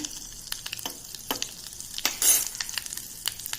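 Mustard seeds and hing sizzling in hot oil for a dahi kadhi tempering, a steady close frying hiss punctuated by sharp irregular pops and crackles, with a louder burst of sizzle partway through.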